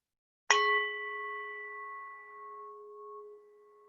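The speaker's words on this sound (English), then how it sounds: "I invite the bell to begin our" A meditation bell is struck once, ringing out with a clear bright tone that hums and slowly fades over several seconds in otherwise quiet surroundings.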